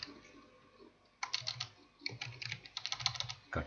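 Typing on a computer keyboard at a desktop PC, with a short pause before a burst of rapid, close keystrokes and a second run of clicking taps; no voices.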